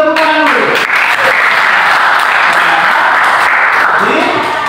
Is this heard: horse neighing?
no